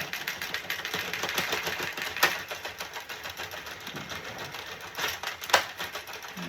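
A knitting machine finishes a run of Woolcraft New Fashion DK yarn, giving a steady rattling, clicking mechanical chatter with a few sharper clacks as the carriage moves and the knitting comes off.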